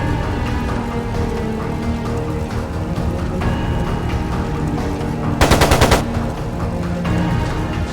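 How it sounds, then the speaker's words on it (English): Machine gun fire in the Trails of Cold Steel II video game: a short, loud rattling burst cuts in near the end over a dense, sustained layer of game music and ambience. "It sounded like a machine gun."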